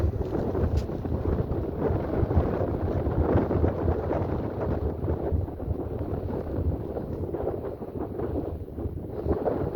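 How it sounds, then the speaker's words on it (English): Strong wind roars steadily on an open desert road in the Amargosa Valley area of Nevada. It buffets the microphone with loud, continuous low rumbling and gusts throughout, and no voices are heard. "But you can just hear the wind."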